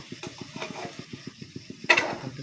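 Vegetables and fish stirred in hot oil in a pan for fish biryani, with a steady rhythmic scraping of the spoon over a soft sizzle and one louder clatter near the end, close and with no talk.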